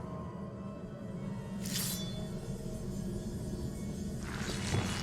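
A spell smashes through a magical barrier in Hogwarts Legacy, a short bright crash near the two-second mark, then a second scattered shattering burst near the end, all over a steady low ambient rumble.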